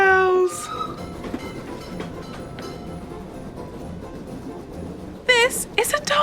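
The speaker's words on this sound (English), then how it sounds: "That sound means the candy cane train is about to make a toy delivery for us to test." A candy cane train sound effect: a steady rolling, clattering rumble, bracketed by bright whistle-like tones at the start and a burst of rising chirps near the end.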